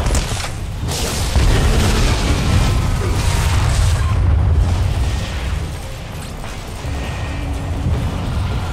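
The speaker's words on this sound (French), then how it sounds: "Je prédis une explosion imminente au niveau du générateur de gravité." A gravity generator explodes in the video game Bulletstorm, a loud, sustained rumbling boom with crackling debris that swells and lingers for several seconds.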